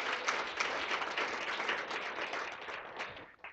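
A conference audience at a homelessness summit breaks into sustained applause, dense overlapping clapping at moderate distance that holds steady for several seconds and tapers off at the end.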